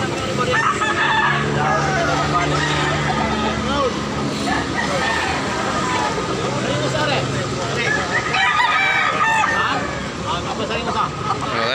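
Roosters crow repeatedly at a Tabunok, Cebu gamecock market, each call loud and close, over a steady hubbub of crowd chatter and nearby talking.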